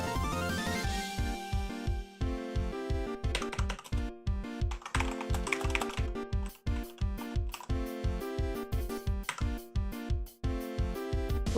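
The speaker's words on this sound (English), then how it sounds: "That's a good keyboard, says Damon." Steady, rapid typing on a computer keyboard, with close, crisp key clicks in an even rhythm and occasional louder strokes, heard alone without talk.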